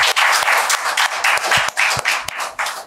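Audience applause at a Tamil novel introduction and book launch event: a steady, dense wash of many hands clapping from a crowded room, loud and continuous without speech.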